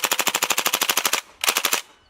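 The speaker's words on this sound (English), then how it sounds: "Thompson submachine gun" A Thompson submachine gun, an open-bolt gun fitted with a drum magazine, fires on full auto: a long, loud, rapid burst of evenly spaced shots, a brief pause, then a shorter burst. There is no talking.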